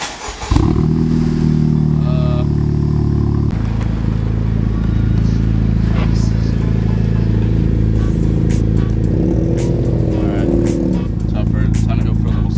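Honda Civic Type R with a heat-wrapped catless downpipe cranks and fires at about half a second, then settles into a loud, steady, raspy idle with a few light blips, recorded close up with no one speaking.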